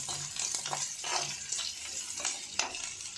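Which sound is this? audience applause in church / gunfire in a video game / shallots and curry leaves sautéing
shallots and curry leaves sautéing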